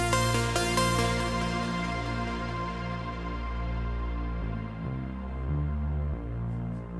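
A thick, sustained synth lead bass tone from an electronic track plays alone, rich in harmonics and shifting pitch a few times, steady and moderately loud.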